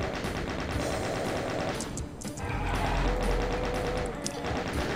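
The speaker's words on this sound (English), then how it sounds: "Fortunately, I have a chain gun." Rapid continuous chain gun fire from Doom 2, a dense rattling stream of shots that runs loud and steady through the whole stretch with no voices.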